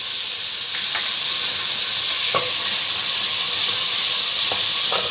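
Spices hit hot oil with browned onions for an aloo curry, giving a steady, loud sizzle and hiss with a few faint scrapes and clicks of stirring, close by and with no talk.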